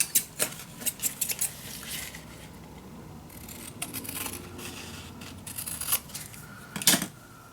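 Scissors snip through paper for a steampunk mini album, making a run of quick crisp cuts at close range, a busier stretch of clustered snips toward the end, with no talk.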